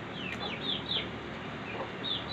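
A rooster that escaped its coop clucks in short repeated bursts over steady outdoor background noise, moderately close.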